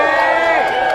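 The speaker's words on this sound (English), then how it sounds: "And one more round of applause," Loud, steady crowd noise at a rally in Olympia, with cheering and voices blending into one continuous roar that fills the whole second.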